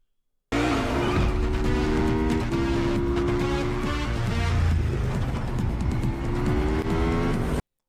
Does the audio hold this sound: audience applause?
no